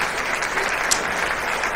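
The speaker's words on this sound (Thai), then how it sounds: "ปรบมือให้กับพี่เอช่างแอร์ด้วยครับผมครับ" A crowd claps steadily at a Thai student debate on cosmetic surgery, a short burst of dense, even applause with no voices over it.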